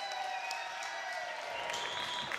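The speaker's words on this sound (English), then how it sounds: "please, a big round of applause for your head football coach" Studio audience applauding for Florida State head football coach Mike Norvell, a steady wash of clapping held at a constant level for a couple of seconds with no talking over it.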